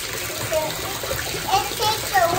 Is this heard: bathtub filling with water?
yes